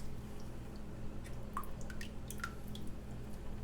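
El Pato tomato sauce pouring into a pan of rice and chicken with tomato and water, giving soft drips and small wet splats over a steady low kitchen hum.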